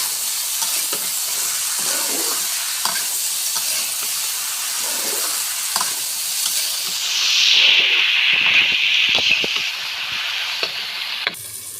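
Vegetables with bottle gourd sauté in a pan, a continuous sizzle with occasional stirring scrapes that swells into a louder hiss of steam partway through before easing off, close and without talk.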